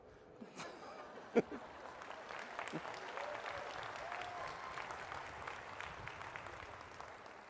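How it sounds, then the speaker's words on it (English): An audience at a university bachelor's graduation ceremony claps softly and from a distance, a faint, scattered patter of applause in a large hall, with a few faint voices underneath. "I guess I should stop for her applause."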